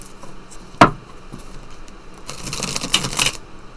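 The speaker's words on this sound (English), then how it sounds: "My deck wants to be shuffled like this." A tarot card deck shuffled by hand, with one sharp riffle snap early on and a denser burst of crisp card flutters and slaps near the end, close and fairly quiet, no talking.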